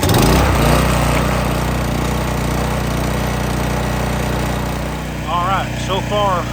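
A gas-powered pressure washer engine runs loud and steady close by, a constant droning hum with a low pulsing rumble, and a brief whistling tone enters near the end.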